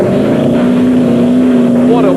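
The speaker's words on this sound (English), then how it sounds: "The prize for the best sounding engine already goes to the Pro Truck" A Pro Truck rally truck at the 1998 Dakar Rally roars loud and steady as it works through mud, a continuous heavy engine drone.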